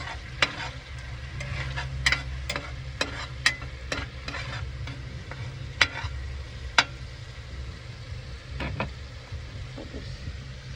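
Food is stirred and mixed in a sizzling pan, with repeated sharp scrapes and clinks of a utensil against the metal over a constant low frying hiss, loud and close by.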